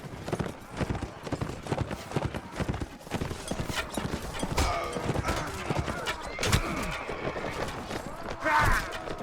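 Horse hooves clip-clopping in the video game Mount & Blade Warband, a rapid continuous galloping patter with a whinny near the end, heard under someone talking and game noise.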